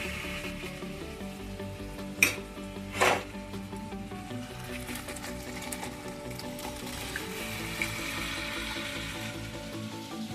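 Mung dal poured into hot oil in a pan sizzles softly and continuously, with a couple of sharper splashes and clatters early on and a faint steady hum underneath.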